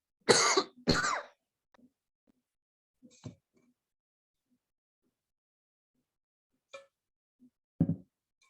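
Two sharp coughs open the clip, followed by scattered faint clicks and a couple of small throat sounds, ending with another short cough.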